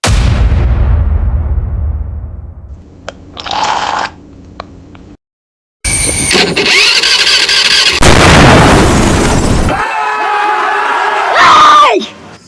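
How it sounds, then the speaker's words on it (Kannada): An old scooter engine struggles to start with loud sputtering bursts, squealing and pauses, then roars into harsh, uneven running close by, with brief crowd-like noise around it. "ಇದೇನ್ ಸ್ಕೂಟರಾ ಟ್ರ್ಯಾಕ್ಟರಾ?"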